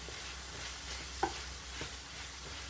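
Squash and chicken breast frying in a pan give a soft, steady sizzle with a couple of faint stirring clicks, quiet and without talk.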